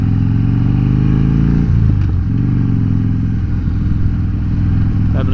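A 2014 Harley-Davidson Dyna Fat Bob rumbles steadily and loudly up close while riding, a deep continuous engine drone with slight shifts in pitch and no talking.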